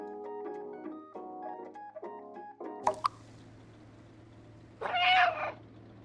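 Cats meow in a cozy video game, a soft melodic chime tune playing first, then a short plucked flourish and a single drawn-out meow near the end against quiet ambience.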